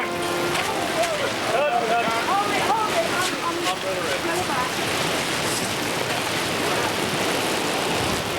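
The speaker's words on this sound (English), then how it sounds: "The dismal truth is that sometimes it does actually rain here, as you can see." Rain falls in a steady hiss on outdoor surfaces, with a broad continuous wash and brief higher chirping sounds early on, likely a voice, blended into the downpour.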